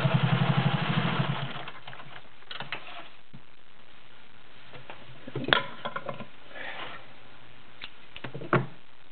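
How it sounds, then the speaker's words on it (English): A Singer 500A Slant-O-Matic, an all-metal gear-driven sewing machine, stitches through seven layers of denim in a rapid, rhythmic burst at the start, then falls quieter with scattered clicks and knocks. "This is an all-metal gear-driven machine."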